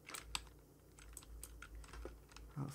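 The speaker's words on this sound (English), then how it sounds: "I'm sorry if you guys can hear my keyboard and mouse." Rapid keyboard typing with scattered sharp clicks, close and fairly quiet, with no talking.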